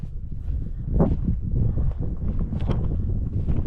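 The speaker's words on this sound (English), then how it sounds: "Kind of windy today." Steady gusting wind buffets the microphone on open farmland by a fence, with a low rumbling roar and occasional rustling, continuous throughout.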